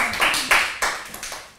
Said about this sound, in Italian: Un applauso, Bim, facciamo un applauso, no?